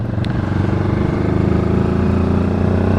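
Close on-board engine of a 2025 QJ Motor SRT 700 SX motorcycle climbing through the revs while riding, a loud continuous drone with a faint rising pitch and no talk.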